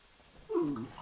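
A pug gives a single short, whiny bark or yelp midway through, fairly quiet and close, with a brief tonal whimpering quality and no talking over it.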